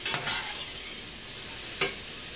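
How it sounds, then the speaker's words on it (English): Chopped onions hit a hot pan for a Caribbean meat pie filling, giving a broad hissing sizzle that flares loudly at the start, settles into a steady fry, then spikes again briefly near the end. "You should hear them start to sizzle"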